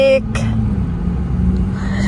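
Steady road traffic rumbles from inside a car in the Netherlands, with a continuous low engine and tyre drone throughout and a brief voice at the start.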